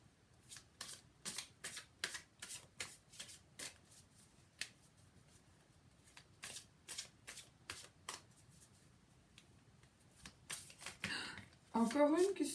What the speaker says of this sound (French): Non, je vais encore les mélanger.